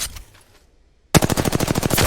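Rapid automatic gunfire in Apex Legends, a loud close burst of evenly spaced shots after a short near-silent pause, with a faint earlier rattle at the start.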